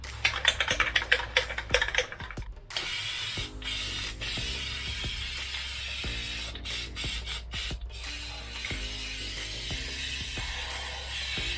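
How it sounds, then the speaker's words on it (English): Steady hiss of an aerosol can spraying Plasti Dip rubber coating onto hard-case foam, broken by brief pauses and a few clicks, close to the microphone with no talking. "I will turn it around to spray the underside."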